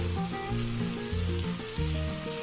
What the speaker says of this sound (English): we're going to give this a nice hot stir fry before we start adding the next ingredient